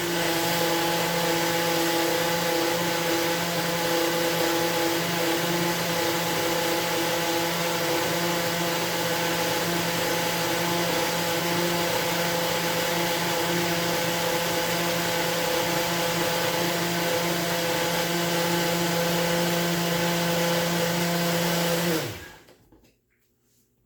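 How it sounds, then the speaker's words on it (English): A blender runs steadily at high speed, thinning an avocado-oil, shallot and goji berry salad dressing, a loud continuous whirring hum for over twenty seconds before the motor cuts off and winds down. "And blend it up and see if I can get it a little bit thinner."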